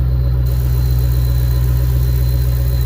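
A 2010 Ford Mustang Shelby GT500 engine fitted with a 2.3 supercharger idles steadily and loudly nearby, a deep rumble with a thin high supercharger whine running over it.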